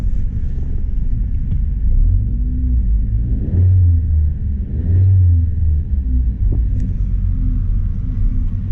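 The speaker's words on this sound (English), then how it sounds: "it's idling just fine on its own." A 2009 Pontiac G5 engine idles on fresh non-ethanol fuel with a low, steady rumble close by, with slight surges in its throb and no talking.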